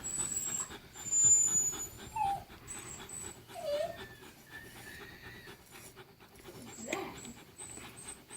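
Odin, a dog having mats raked out of his coat, gives faint high whimpers and squeaky whines scattered over soft panting and brushing noises, close and quiet.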